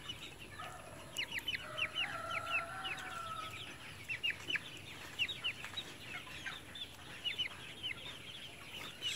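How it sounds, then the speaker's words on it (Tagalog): Three-week-old shamo chicks at a heritage chicken farm give quick, high peeping clucks in rapid overlapping bursts, a small flock close by with a low background hum and no voices. "3 weeks old po dungtaw or dragon chicken"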